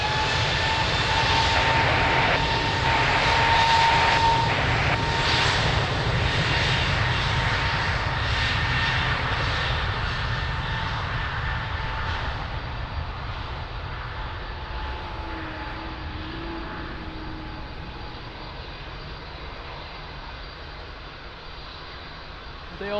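Ryanair jet airliner taking off at Lisbon Airport, a loud sustained engine roar that slowly fades as the aircraft departs, with faint radio chatter beneath.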